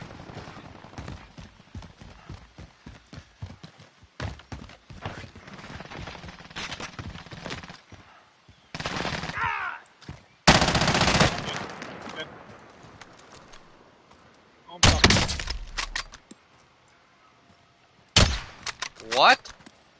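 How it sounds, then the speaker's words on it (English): Gunfire in the battle royale game Warzone, with rapid clattering bursts and several loud, sharp sniper rifle shots standing out among them, heard close under players talking. "I've hit this guy with two sniper shots now."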